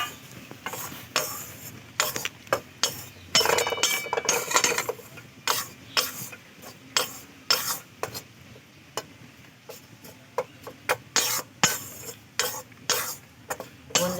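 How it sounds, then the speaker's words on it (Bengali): Gram flour (besan) is stirred and roasted in a pan over low heat for laddu, giving a repeated scraping stir with rhythmic bursts and a faint sizzle underneath, close by and with no talk. "গ্যাসের আঁচটা কমিয়ে দেব আর অনবরত নাড়তে থাকবো।"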